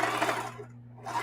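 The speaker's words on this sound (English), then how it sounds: "I'm sewing around the first half" A sewing machine stitches fabric in a short, faint whirring burst that pauses briefly before the motor picks up again.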